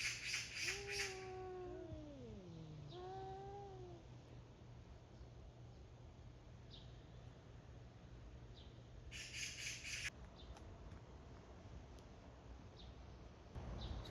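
Two cats outside a house at dawn on a cool summer night give a couple of rising, wavering meows and caterwauls early on, faint and somewhat distant, followed by quiet outdoor ambience.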